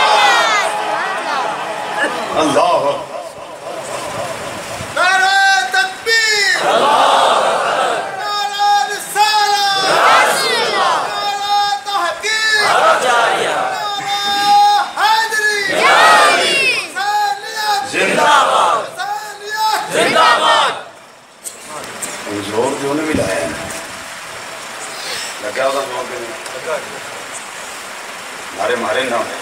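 A large crowd at a religious speech in Chak 82 Shumali, Sargodha chants the Nara-e-Takbir slogan in loud, rhythmic bursts of massed voices, repeated several times before fading into a lone speaking voice near the end.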